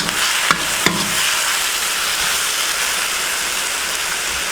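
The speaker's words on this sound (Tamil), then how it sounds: "ஒரு கிளறிக்கலாம்" Prawn masala being stirred as it fries in a pan, a steady close sizzle with a couple of sharp utensil clicks near the start and continuous crackling throughout.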